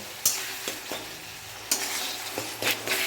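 Tomatoes mashed and stirred with a metal spatula in a hot pan, a soft steady sizzle under scattered sharp scrapes and taps of the spatula against the pan.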